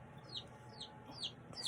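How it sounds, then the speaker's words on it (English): Baby chicks chirp softly nearby, a series of short high peeps arriving every half second or so, faint and unaccompanied by speech. "so that's what the chirping is, if you can hear that"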